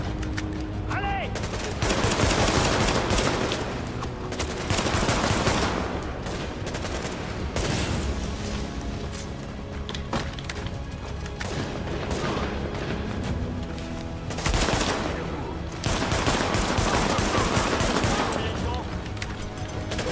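Dense, sustained gunfire from The Division, with rapid automatic bursts and heavy shots that pile into rolling volleys and swell repeatedly over twenty seconds, while a player's voice talks intermittently over the din.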